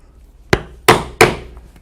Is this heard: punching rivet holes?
yes